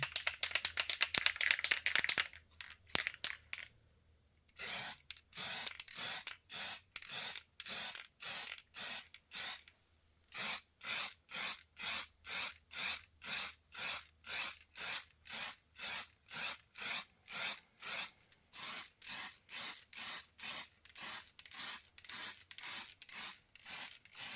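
Aerosol spray paint going onto an X-Maxx RC car body as a second, closer coat: a long run of short, loud, evenly spaced hissing bursts with a few brief pauses, near and alone.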